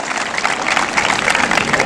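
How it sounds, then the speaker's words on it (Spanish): Crowd applauding at a jaripeo rodeo held in honor of the faithful departed in San Jacinto, a dense steady clapping roar from a large audience filling the whole moment at even loudness. "¡Bríndele fuerte el aplauso!"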